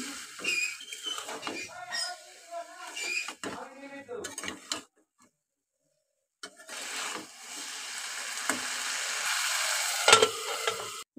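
Potatoes and tomatoes fry together in a pan for a mixed bhaji; after some earlier sounds and a brief silent gap, a steady close sizzle with occasional stirring clicks takes over.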